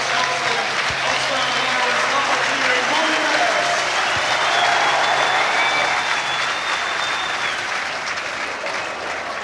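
A 10,000-strong rugby crowd at Scotstoun stands to give Rory Best a sustained ovation after Ulster's semi-final against Glasgow Warriors, a loud unbroken roar of applause and cheering with a commentator's voice faintly over it.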